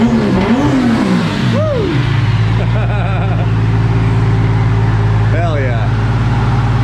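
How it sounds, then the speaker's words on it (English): A Nissan S14 drift car engine with a fabricated wastegate dump blips up and down in a few loud revs, then settles into a rough, throaty idle close by, with a person briefly cheering over it. "Why don't you rev it up a little bit there?"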